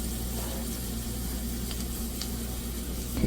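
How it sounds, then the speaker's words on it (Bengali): Dried red chillies frying in oil in a pan, giving a steady, close sizzle that crackles continuously with faint stirring, and no voices. "শুকনা মরিচটা সুন্দর করে ভাজতে হবে, ব্রাউন কালার করতে হবে।"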